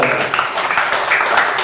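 A classroom audience claps steadily for a student group, a dense, loud patter of many hands filling the whole moment with a faint voice underneath.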